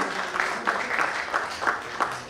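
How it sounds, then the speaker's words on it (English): An audience gives doctors a round of applause at a doctor-patient network event, moderate clapping with a loose rhythm of distinct claps over a short stretch. "Come on, we deserve one more round of applause."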